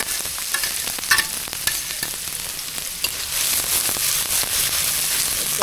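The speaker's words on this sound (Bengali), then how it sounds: "এখন পেঁয়াজ রসুন ঝাল মরিচ দিয়ে দেব।" Onion, garlic and green chili frying in hot oil in a pan for a bottle gourd leaf curry, a loud steady sizzle with crackling pops and occasional stirring scrapes, no talk.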